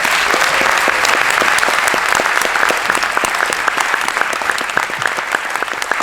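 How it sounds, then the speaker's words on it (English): An audience at an iOS developer conference talk in 2023 claps steadily and briskly, a full, even round of applause with crisp individual claps and no clear cheering. "This is the part where you cheer loudly for me."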